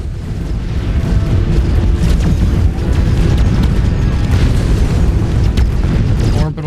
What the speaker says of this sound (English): Missile barrage taking out almost every single one of them.